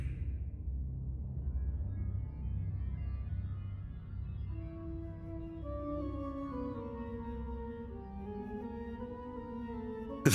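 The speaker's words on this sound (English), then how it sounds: "That sound, that's the sound of the Reaper flute." Reaper flute in the Dragon Quest Adventure of Dai Infinity Strash video game, a faint, eerie, descending flute melody that rises over a low rumbling ambient background.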